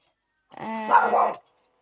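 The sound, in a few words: dog barking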